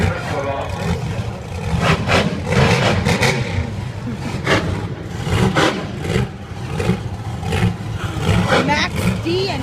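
A monster truck engine roars loudly at a Lebanon Valley Speedway race, rising and falling in steady throbbing surges, with a crowd and an announcer's voice over it.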